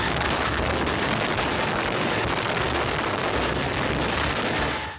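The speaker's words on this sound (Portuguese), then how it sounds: "desde a instalação da dinamite no local até a explosão que reuniu muitos curiosos" Dynamite implosion of the old Detran building in 1978, heard as a continuous, loud, dense roar of rumbling blast and collapsing debris that fills the whole span and fades only at the very end.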